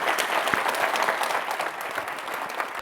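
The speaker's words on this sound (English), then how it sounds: "Let's give them a big round of applause." A live audience claps in a dense, steady burst of applause that rings through a hall for a few seconds, with faint crowd murmur underneath.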